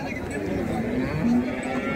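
Low, drawn-out lowing from a cow at a busy cattle market in Nekanur, Beed, moderately close and partly blended into a steady background of market chatter and noise.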